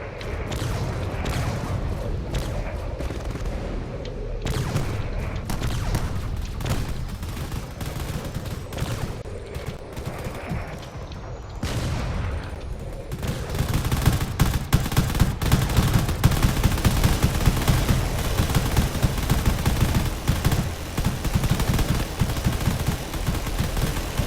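Rapid cannon fire from drones pounds a carrier during a space battle video game, dense bursts of shots running continuously and growing louder and busier in the second half, with no talking.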